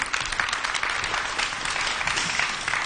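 Studio audience applause on a Turkish television talk show, steady dense clapping from a crowd filling the room at an even level throughout.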